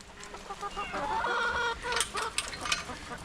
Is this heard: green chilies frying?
no